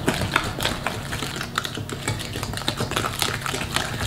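Cookie dough being mixed in a bowl after a whole egg is added to the butter, a steady run of dense, rapid tapping and scraping strokes, close and continuous with no talking.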